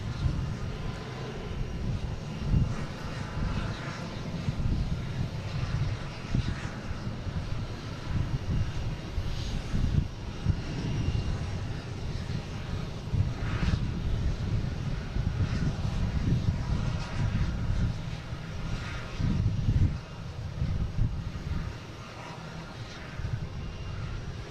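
An Aer Lingus jet airliner departs Boston Logan at night bound for Shannon, its engines producing a steady, broad low rumble that holds at moderate level throughout, with no voices.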